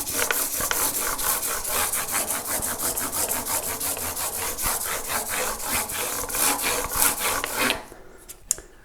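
Steady back-and-forth sanding on a Thinline Telecaster guitar body to remove scratches, fast rhythmic rasping strokes that continue for several seconds, then stop abruptly near the end, leaving a few faint knocks.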